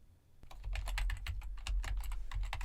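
Someone types a task note in Outlook on a computer keyboard. A brisk, steady patter of close key clicks starts after a brief pause and continues to the end, with no talking.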